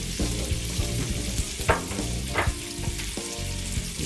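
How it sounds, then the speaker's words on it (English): Homemade pierogies sauté in a pan, giving a close, continuous sizzle with a couple of brief sharper crackles and light stirring throughout, no voices. "I like to saute these down."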